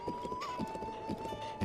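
Horse hooves clip-clop in Breath of the Wild, a steady run of soft, evenly spaced game footfalls heard close, with a faint sustained tone behind them and no talking.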